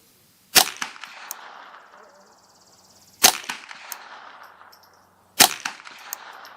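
Three sharp .22LR rifle shots from a custom Ruger 10/22, each a crisp crack with a short echoing tail, spaced a few seconds apart at an outdoor range, loud and close with no talking.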